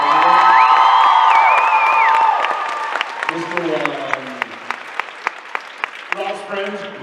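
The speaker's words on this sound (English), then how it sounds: "A round of applause for Loud and Swain" Convention crowd at a Supernatural fan panel in Las Vegas bursts into loud applause, cheering and whoops, with a voice over a PA early on; the roar thins into scattered sharp claps as a voice talks over it.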